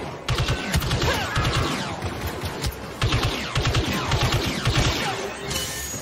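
Rapid bursts of gunfire from the Star Wars Battlefront 2 video game, repeated volleys with sharp cracks and crashing impacts throughout, close and loud, with scattered other game effects and no clear voice.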